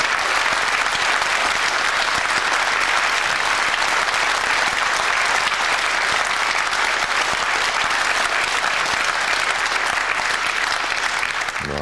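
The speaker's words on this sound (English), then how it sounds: "a standing ovation for, as Willie Thorne said, the genius at work" A snooker crowd gives a standing ovation for Stephen Hendry's 147 maximum break, his seventh competitive maximum, with dense, sustained applause filling the hall evenly at full volume from start to finish.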